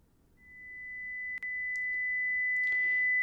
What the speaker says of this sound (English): You can hear a 2 kHz sine wave.